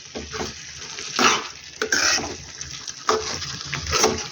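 Grated egg is mixed into a spice masala in a pan for egg ghotala, with repeated bursts of scraping spoon strokes against the pan over a sizzling fry, loud and close.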